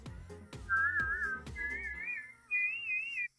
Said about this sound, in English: the double whistle? It's this.